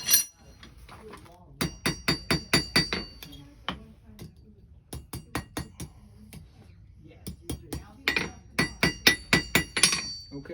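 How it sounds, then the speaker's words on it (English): A blacksmith hammers a hot iron nail locked in a vise, with rapid bursts of sharp metallic ringing strikes, loud and close, separated by short pauses. "Hammer that over."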